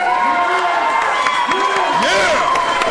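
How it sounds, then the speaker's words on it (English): A slap fighting tournament crowd cheers in a frenzy, a loud, steady wall of shouting and whooping voices that rise and fall with scattered clapping throughout. "this crowd in a frenzy"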